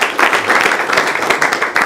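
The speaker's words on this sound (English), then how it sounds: "let's clap for Brian and the Genesis team" An audience at a university innovation week event claps briefly, a dense, loud burst of overlapping handclaps with no voices heard.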